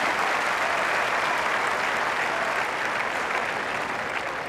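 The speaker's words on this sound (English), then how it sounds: "deserving of this round of applause." Tennis spectators at the Monte Carlo tournament applaud steadily in a dense, even wash of clapping that holds at full strength for the whole stretch, with no talk over it.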